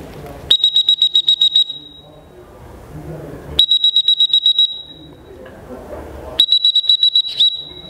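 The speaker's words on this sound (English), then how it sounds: "I went like this and I blew my whistle. Beep, beep, beep, beep" A dog-training whistle sounds in three separate bursts of rapid, sharp beeps, each a quick run of piercing chirps, with quiet gaps and faint murmurs between.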